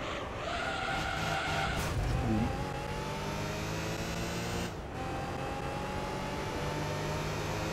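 A car on a track in the PS2 racing game Gran Turismo Concept 2002 Tokyo-Geneva, in license mode without music: a loud, steady engine drone with tire skids and squeals as it enters corners.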